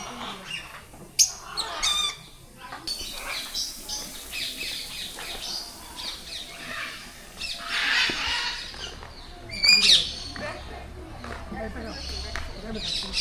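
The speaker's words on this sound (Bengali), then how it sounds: "আর এদিকে আপনার অসংখ্য ছোটো ছোটো অনেক পাখি আছে" Many small birds and parrots at Gazipur Safari Park chirp and squawk in scattered bursts, fairly close, with sharper calls standing out over a background of voices.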